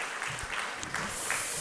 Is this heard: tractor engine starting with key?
no